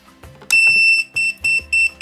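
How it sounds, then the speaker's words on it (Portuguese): A loud wireless pager alert from an electronic queue system beeps in a pulsing pattern of four or five high tonal bursts, close up, with a faint vibration buzzing rattle underneath. "Ele tá com a iluminação, a vibração e o bip"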